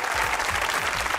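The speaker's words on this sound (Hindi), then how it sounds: "तालियां बजाइए।" A studio audience at a comedy talk show claps in a brief, dense burst, loud and near, with a few low voices underneath.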